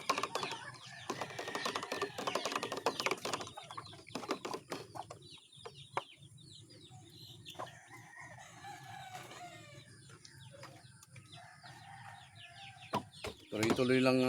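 Chickens cluck and chatter at close range, with a rooster crowing and occasional wing flaps amid farmyard clatter.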